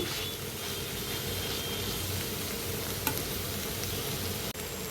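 Oil tempering for bottle gourd pachadi sizzling steadily in a pan, a dense close frying hiss that runs unbroken with a couple of faint clicks, no talking.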